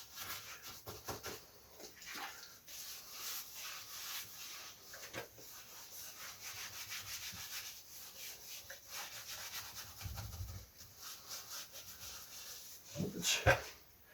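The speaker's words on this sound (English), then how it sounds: "I just use the scrubbing brush" A scrubbing brush rubs back and forth over caked-on grime, a soft, quiet scratchy scouring in uneven strokes, close up, with brief faint voices.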